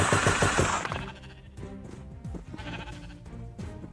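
Loud sheep bleats in a video game while building, a burst of repeated bleating at the start followed by further overlapping bleats and clattering game sounds throughout.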